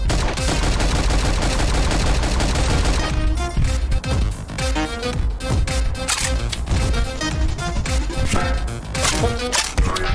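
Dual AK rifles fired in the Milk Man Karlson video game: loud, rapid bursts of automatic gunfire, dense at first and then breaking into sharp separate shots and short volleys.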